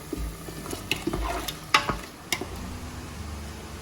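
A spoon scrapes and clicks through a pan of frying chicken biryani masala as chili powder is stirred in, with soft sizzling under irregular metallic taps, close and moderately loud.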